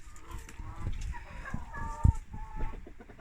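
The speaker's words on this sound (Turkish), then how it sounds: "Burada 3 tane prahma civcivi var" Brahma chicks and chickens chirping and clucking nearby in a coop, a steady tangle of soft peeps with one louder low thump partway through.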